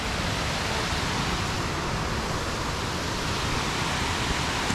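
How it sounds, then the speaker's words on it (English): A canyon waterfall heard from the top of the drop, a constant loud broadband rush of falling water with no pauses and no voices. "We're on top of the waterfall."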